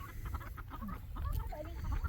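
Big white roosters and other fowl on a ranch during morning chores, giving close, continuous clucking and short calls over a low outdoor rumble.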